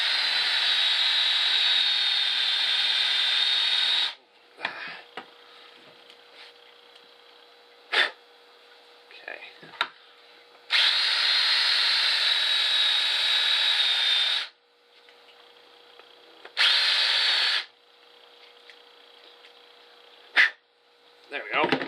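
A power drill bores a hole in wood while making a homemade ball starter, whining loudly in two long sustained bursts and a few short ones, separated by quiet stretches with faint handling noises.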